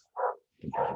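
A neighbor's dog barks twice, close and fairly loud, with a short gap between a single bark and a longer, rougher burst.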